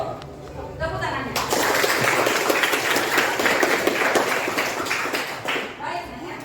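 A burst of clapping from a class, dense and steady for several seconds, with voices talking over it at the start and end.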